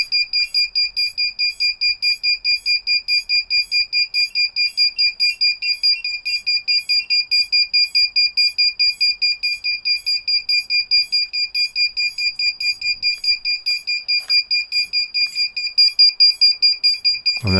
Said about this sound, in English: And then I'll turn the buzzer off.